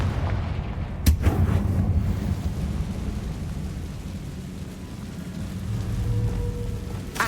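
Confringo blasting spell going off in the video game Hogwarts Legacy, a sharp crack followed by a loud, rumbling, sustained boom with crackling debris that fades slowly, heard alone.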